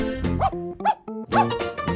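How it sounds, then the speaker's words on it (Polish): A dog gives several close, high, yappy barks in quick succession with short pauses between them. "Ładny piesek."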